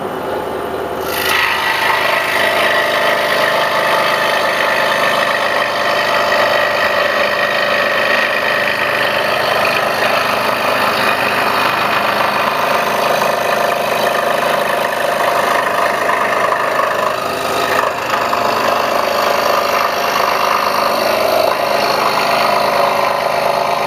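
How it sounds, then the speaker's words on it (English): A scroll saw fitted with a number 7 blade cuts steadily through 3/4 inch wood, giving a continuous rasping buzz that holds at an even level throughout with no talking. "I have a number 7 blade chucked up in the scroll saw because this is 3/4 inch wood"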